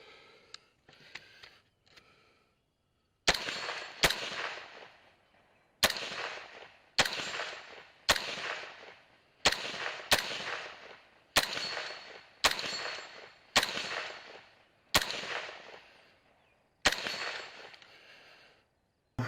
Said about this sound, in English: tried to go 1 for 1 on those 3 back gongs from 150 with my pistol